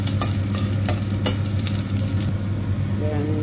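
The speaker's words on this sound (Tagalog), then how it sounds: "Una, gisa natin ang bawang." Garlic sautéing in a pan for sardines cooked in coconut milk, a steady sizzle with a few sharp spatula scrapes and clinks, close and continuous, with a faint low hum underneath.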